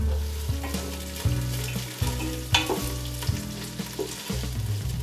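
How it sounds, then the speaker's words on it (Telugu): Onion pieces frying in oil in a pan for soya granule (meal maker) dum biryani, a steady loud sizzle broken by repeated scraping stirs, with no voices. "ఇవి ఆయిల్లో బాగా ఫ్రై అయ్యే వరకు మనం ఫ్రై చేసుకోవాలి."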